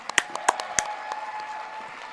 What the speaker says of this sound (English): I think Rachel deserves one more round of applause.